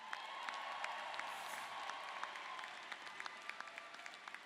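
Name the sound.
audience applause at commencement ceremony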